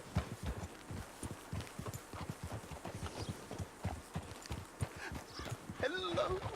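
Steady clip-clop of horse hooves at a walking pace, moderately close, with a brief whinny near the end, in the video game Red Dead Redemption 2.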